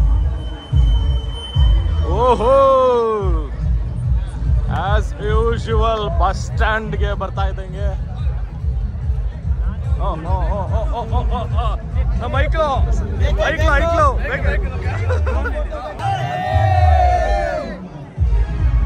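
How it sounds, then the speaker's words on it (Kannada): Crowd hubbub at a Ganesha festival procession in Balehonnur, Chikkamagaluru: a steady babble of many voices and occasional shouts and cheers, mostly beneath someone talking loudly close by. "ಕ್ರೌಡ್ನ ಶೋ ಮಾಡಲಿಕ್ಕೆ ಕ್ರೌಡ್ ಎಷ್ಟಿದೆ ಅನ್ನೋದಕ್ಕೋಸ್ಕರ ಮುಂದುವರಿತಿದ್ದೀನಿ"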